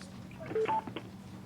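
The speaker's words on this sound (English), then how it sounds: "I'm going to go ahead and mute everyone's phone lines here first before we start the call." Several short telephone keypad tones beep in quick succession as a host mutes conference call lines, clear and isolated against faint background noise.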